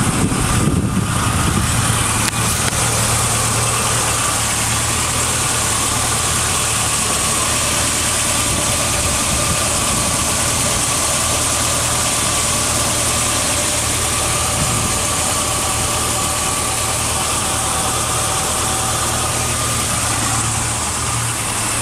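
A 1987 Itasca Phasar RV motorhome engine idles steadily, a loud, constant low rumble with a vibrating hum throughout; a brief burst of noise at the start settles into the unchanging idle.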